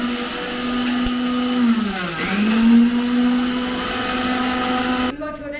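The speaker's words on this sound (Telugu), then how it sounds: "వెల్లుల్లిపాయలు ఇవి మిక్సీ వేసేసుకున్న తర్వాత ఉల్లిపాయ కూడా వేసుకొని మిక్సీ" An electric mixer grinder blends cumin, coriander seeds, cloves, cardamom, garlic and onion into a paste. The motor whirrs loud and steady, its pitch dipping and recovering under load, before cutting off abruptly near the end.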